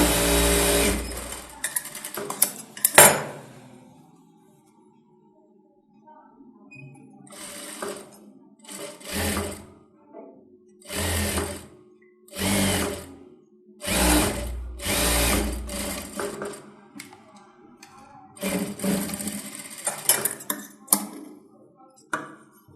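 A sewing machine stitching a blouse runs in short bursts of rapid mechanical whirring, a dozen or so separate runs broken by quiet pauses, close and fairly loud with no talk over it.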